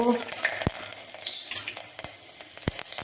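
Cumin, chopped garlic and curry leaves crackle in hot oil with a bright continuous sizzle and a few sharp pops, close and alone without talk.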